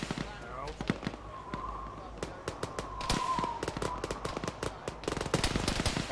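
Repeated bursts of gunfire in an Arma tactical military game, sharp cracks coming in quick irregular volleys near and far, with radio-style voices talking in between.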